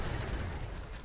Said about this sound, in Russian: Да, это пикап подрывает.